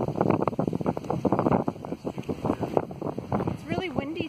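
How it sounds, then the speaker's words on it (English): Strong wind gusts outdoors near tree branches, rumbling and buffeting against the microphone throughout while a person talks over it. "It's really windy today, as you can see."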